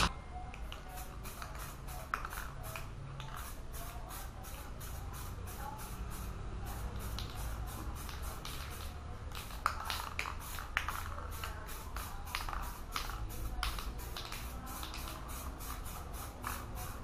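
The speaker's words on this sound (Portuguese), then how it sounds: "Vamos agitar um pouquinho a tinta aqui, porque para misturar bem." An aerosol or paint can being shaken to mix before painting the central dash panel of a Polo, a steady run of rapid rattling clicks and rhythmic swishes lasting throughout, fairly close and with no talk.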